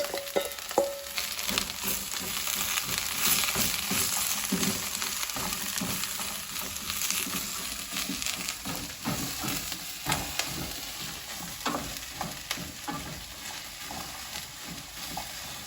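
Food sizzles and crackles loudly in a hot pan, a continuous close-up frying hiss with scattered pops and stirring sounds.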